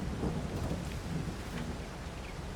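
Thunder rumbles low beneath steady rainfall in Farming Simulator 22, a dull rolling storm sound with no voices.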